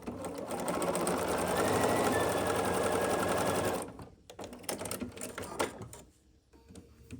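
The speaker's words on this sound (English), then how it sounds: "And then we'll sew across this diagonal now." A sewing machine stitches a diagonal seam across quilt fabric squares, a fast steady whirring hum for about four seconds, then stops and gives way to softer handling clicks and fabric rustles nearby.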